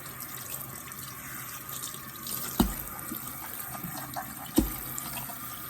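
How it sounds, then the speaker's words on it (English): Tap water running steadily into a kitchen sink while a turkey breast is rinsed, a soft continuous splash close by with two brief knocks, no talking. "I'm basically just going to rinse the whole bird."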